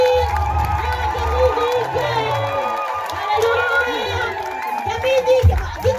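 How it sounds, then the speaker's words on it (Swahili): A church crowd at a Kenyan prophet's gathering cheers, shouts and claps loudly together, a dense continuous roar of voices and applause with whoops rising and falling. "tuhorera makofi mega na kiambi"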